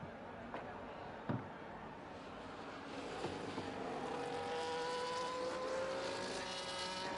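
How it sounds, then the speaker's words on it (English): High-pitched Formula 1 engines in a racing video game at Monza whine and climb steadily in pitch over a broad rushing roar, with a couple of brief thumps early on and no talking. "Nice engine sounds there from these Formula 1 cars."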